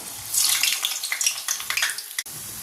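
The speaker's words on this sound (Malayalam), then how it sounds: "അപ്പോൾ ഇനി നമുക്കിത് എണ്ണയിലേക്ക് ഇട്ട് കൊടുക്കാം. ഇപ്പോൾ എണ്ണ ചൂടായിട്ടുണ്ട്." Onion egg vadas slide into hot oil and break into a loud, continuous sizzle and crackle, bubbling steadily for about two seconds before it cuts off abruptly, with no voices.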